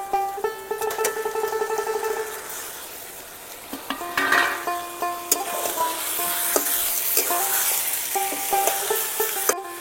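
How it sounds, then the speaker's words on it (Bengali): Mutton pieces fry and get stirred in a hot spice masala for a village-style curry, a steady close sizzle broken by repeated scraping strokes of a spoon against the pan. "মাংসটা ভালো করে কষিয়ে নেব"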